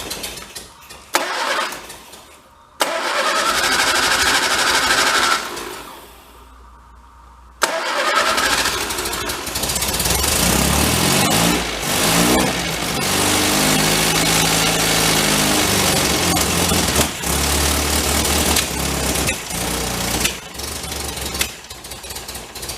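A 1953 MG TD barn-find engine cranks and runs loud and rough nearby, cutting out briefly before restarting and settling into a steady, uneven running clatter.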